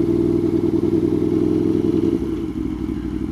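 Motorcycle engine running rough while cruising slowly at around 25, a loud close uneven low throb with rapid stuttering pulses instead of a smooth drone, easing slightly near the end.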